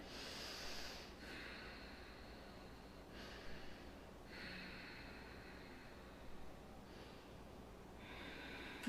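Controlled breathing during a power yoga session, with several slow, airy inhales and exhales spaced a few seconds apart, close and fairly soft against a quiet background.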